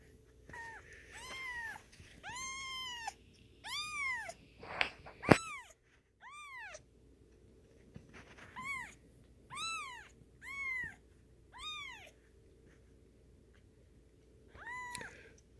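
An 11-day-old kitten meows again and again, about a dozen clear, high, rising-and-falling cries spaced through the clip with short pauses between them, close and fairly loud over a quiet background.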